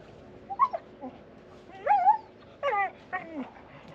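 Dogs whimper and whine in short, high-pitched bursts near their doghouse by Manavgat Dam, Turkey, a few rising yelps close by against a quiet background.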